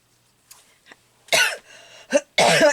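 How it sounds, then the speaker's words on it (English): Person coughing indoors during a craft session, a few faint throat sounds followed by two loud, close, harsh coughs and a short bark between them. "I started to talk and I coughed."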